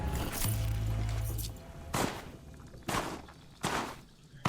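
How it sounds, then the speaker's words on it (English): Slow-motion explosions in the video game Horizon Zero Dawn: a low rumble opens, then three loud, broad bursts land about a second apart, each swelling and fading out slowly. "You like how the explosions are slow-mo?"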